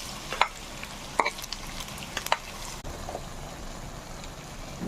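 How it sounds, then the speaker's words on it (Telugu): Pre-fried prawns dropped into a brinjal curry frying in a pan, giving a steady sizzle with several knocks and clatters of a spoon against the pan. "మనం ముందుగానే ఫ్రై చేసి ఉంచుకున్న రొయ్యల్ని ఇప్పుడు ఇందులో యాడ్ చేద్దాం"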